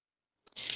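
A single short snip of scissors cutting fabric jacket lining, a crisp close cut after a moment of silence, with the blades sliding through the cloth near the end.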